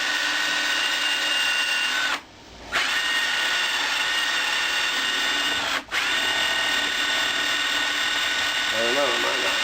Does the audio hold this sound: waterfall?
no